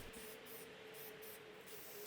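Spray lacquer hisses from an aerosol can onto a wooden vanity outdoors. The faint, continuous spray wavers in short pulses as the nozzle is pressed.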